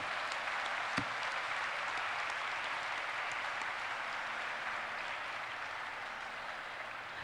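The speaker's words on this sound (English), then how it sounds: "Let's have a huge round of applause for both of them first of all." Steady audience applause at a leadership development program event, a dense even patter of clapping held throughout at moderate level with one sharper clap early on.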